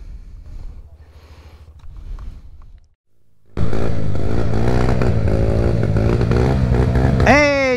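A motorcycle engine in a mud challenge starts after a brief quiet stretch, then runs loud and close with a rough, buzzing idle. The revs climb sharply near the end.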